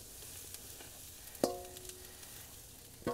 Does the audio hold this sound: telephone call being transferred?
no